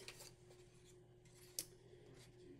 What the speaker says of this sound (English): these scissors are so much easier to use